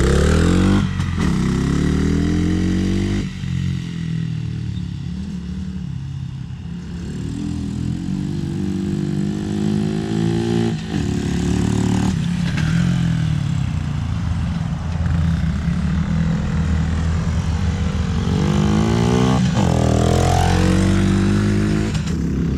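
A Coleman AT125UT with a swapped-in engine running loud and close, revving up through the gears with rising pitch, short dips at each shift, then pulling hard again, with no talk.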